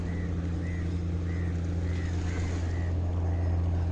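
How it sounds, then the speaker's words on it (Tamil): Continuous low rumble of sea waves and engine-like drone fills the seaside at Tanjung Harapan, Port Klang, with faint repeated high chirps over the steady wash. "கடலோட அலை ஓசை கேட்டுட்டு நீங்கள் ரிலாக்ஸ் பண்ணலாம்"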